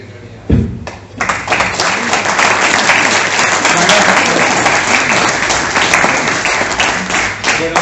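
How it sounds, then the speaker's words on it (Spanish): Audience applause at a political club gathering, starting after a brief thump and quickly swelling into loud, sustained clapping from a crowd that carries on to the end. "Un aplauso"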